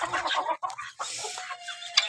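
Chickens cluck in a yard while they eat, with ducks nearby: a busy scatter of soft, close clucks and short calls coming in quick, irregular bursts, with no talking.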